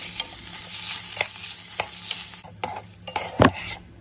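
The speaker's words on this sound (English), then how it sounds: "And to help the onions start sweating a little bit, I'm going to add in some salt and a little bit more ghee." Onions sweat in ghee with salt in a pan for tadka dal, a soft continuous sizzle broken by scraping stirs, with a louder scrape near the end.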